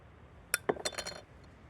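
Metal parts of an old 4hp Johnson outboard water pump clink and tap together as it is pulled apart, a quick cluster of small bright knocks against a quiet background.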